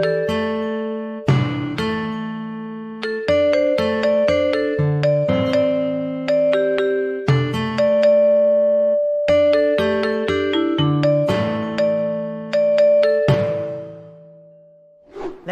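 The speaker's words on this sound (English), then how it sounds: "Let's now hear an example of Balinese gamelan." Balinese gamelan ensemble playing metallic gongs and metallophones, with bright struck bronze tones in fast interlocking patterns, ringing sustains and a shimmering cymbal wash near the end, loud and close.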